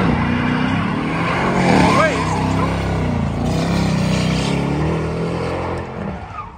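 A Dodge Hellcat spins one wheel and peels out at a car takeover meet: a loud, close engine roar with tire squeal that swells and then fades, while people talk over it.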